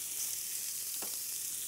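Pieces of ribeye steak sizzle on a hot stone in a steady, hissing fry, with a brief sharper crackle as a piece is moved or added.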